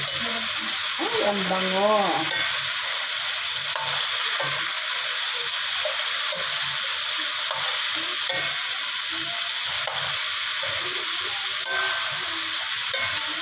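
Cauliflower and carrots are stirred and sautéed in a pan, giving a constant, even sizzle throughout, with a brief voice near the start.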